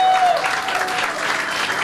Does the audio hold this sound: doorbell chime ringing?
no